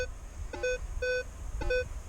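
A Minelab Equinox 800 metal detector sweeping over an old farm field gives three short, clean electronic target beeps at an even spacing, each one crisp and close.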